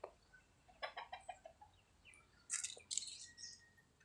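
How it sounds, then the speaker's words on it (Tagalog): Chickens cluck in short bursts close by, a quick series of clucks followed by a couple of louder squawks, with no talk. "Ayan, mga manok ko"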